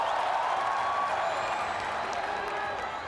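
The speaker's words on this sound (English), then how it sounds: "A very martial arts savvy crowd here in Manila. Appreciating everything they're seeing from Eduard Folayang" Crowd at a ONE martial arts fight in Manila breaks into loud, sustained applause and cheering, a dense wash of clapping that fades slightly toward the end, with a commentator talking over it.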